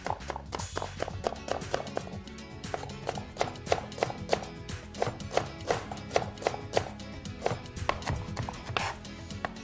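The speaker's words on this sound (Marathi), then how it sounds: "कांदा आपला छानपैकी चिरून झाला." A knife chops onion on a board in quick, uneven bursts of sharp taps, close and clear in a kitchen studio, with faint background murmur.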